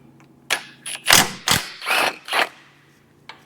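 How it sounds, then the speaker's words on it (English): Ratchet wrench loosening 14 mm bolts on a Toyota Tacoma or 4Runner lower ball joint, a series of loud close clicking and clunking bursts in quick succession, then a short pause and one last faint tick. "These are 14 millimeters, 2 on this side and 2 on the back side. We're going to go ahead and remove those now."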